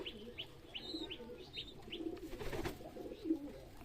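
Pet pigeons on a pigeon farm coo softly at morning feeding time, with a run of short repeated chirping calls and faint wing flutters, fairly quiet overall.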